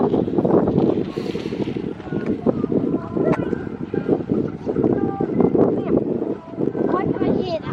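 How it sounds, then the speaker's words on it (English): Wind gusts across the microphone outdoors on a walk to the Poole fireworks, steady and rough, with people talking close by over it. "Why can I hear that? This is the way the wind's blowing."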